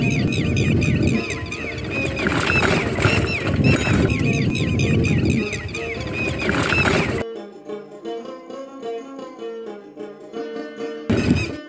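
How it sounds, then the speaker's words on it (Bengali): Birds call outdoors during a walk in nature, with dense, overlapping harmonic cries and honk-like calls that stay loud for about seven seconds, then thin to sparser calls. "চলতে চলতে পাখির কলহল ক্যামেরা বন্দি করেছি, তো আপনারা শুনতে থাকেন সেই কলহল পাখির।"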